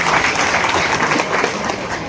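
Audience applause welcoming a speaker at a religious gathering at Devraj Dham, Modasa, a dense, steady wash of many hands clapping throughout, close and loud with no break.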